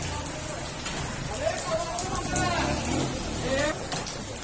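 Rain patters on a construction site where builders are working and a metal roof sheet is being fixed, a steady moderate hiss beneath nearby people talking.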